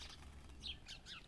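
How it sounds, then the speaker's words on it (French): Small birds chirp in short, faint bursts over a low outdoor rumble, sounding agitated, with a soft flutter of wings. "il y a tous les oiseaux qui s'excitent"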